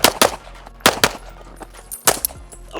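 Rapid pistol gunshots from a shooting training session, fired on the move in paired bursts of two or three sharp cracks, loud and close, with brief gaps between strings.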